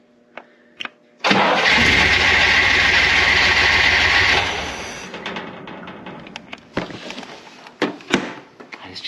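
A car engine with a timing fault cranks and catches, a loud steady roar for about three seconds, then settles into a quieter running sound with clanks and knocks nearby.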